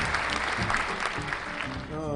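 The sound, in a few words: round of applause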